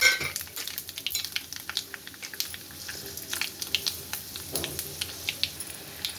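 Mustard seeds, urad dal and chana dal crackle and fry in hot oil for an upma tempering, a steady close sizzle broken by sharp pops and spoon scrapes against the pan.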